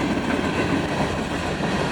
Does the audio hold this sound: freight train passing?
yes